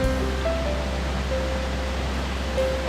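Steady broadband rush of a waterfall at a shaded, tree-covered stream below a cliff, continuous and fairly loud with no change across the moment.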